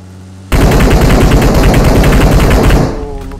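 A sustained burst of rapid automatic gunfire in PUBG Mobile, from a team first-person ranked match, starts abruptly, runs loud and dense for about two seconds, then cuts off to a quieter ringing tail.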